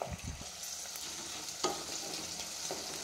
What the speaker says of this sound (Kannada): ಬಟಾಣಿ ಮಾತ್ರ ಆಯಿಲಲ್ಲಿ ಫ್ರೈ ಆಗಲೇಬೇಕು